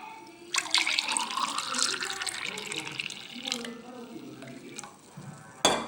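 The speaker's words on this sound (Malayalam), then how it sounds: "2 ഗ്ലാസ്സിൽ ഒഴിക്കാം." Juice made from square tamarind (chathurappuli) is poured into two glasses, a continuous close liquid splash and trickle lasting several seconds before tapering off, with a sharp clink near the end.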